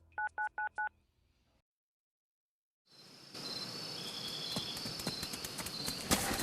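Four quick telephone keypad tones beep in an even row, then silence, followed by a louder, noisy ambient stretch.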